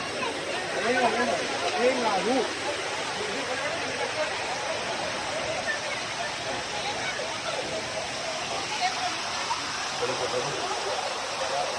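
A waterfall at Araku, a broad steady rush of falling water that fills the background for the whole stretch while people talk nearby over it.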